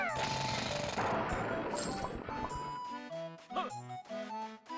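In the video game Banjo-Tooie, objects are drilled up with a loud rapid jackhammer-like rattle for about three seconds, followed by short chiming game sound effects and jingles.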